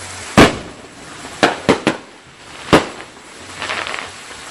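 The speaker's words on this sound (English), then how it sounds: "Sparkly fireworks trees." Fourth of July fireworks pop near a pond in a quick uneven string of five loud cracks, then a fainter crackling fizz trails off.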